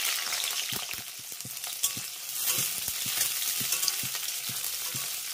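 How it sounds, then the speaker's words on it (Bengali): Half a large capsicum fries in oil left over from eggplant. A constant close sizzle runs under a string of evenly spaced soft stirring knocks, with no speech. "একই তেলের ভিতরে দিয়ে দেবো আমি একটি বড় সাইজের ক্যাপসিকামের অর্ধেকটা।"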